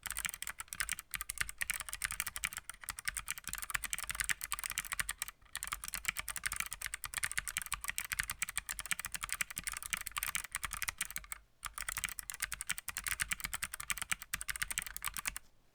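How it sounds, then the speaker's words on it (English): Steady, rapid typing on a handwired split USB-C keyboard, a Scotto 44, with dense clacky keystrokes close to the mic and only two brief pauses. "with that, we're gonna go type on it now."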